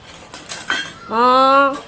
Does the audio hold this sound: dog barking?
no